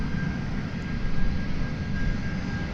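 A Spirit Airlines jet, flight 1858, at DFW Airport gives off a steady, moderately loud engine rumble and whine that continues evenly through the short stretch, with no talking.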